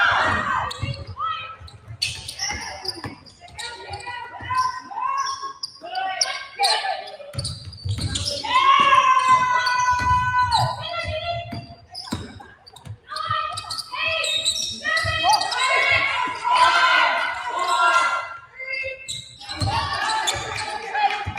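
Basketballs bouncing on a gym floor at Indiana Fever training camp, many overlapping thuds mixed with sneaker squeaks and players' voices calling out across the court.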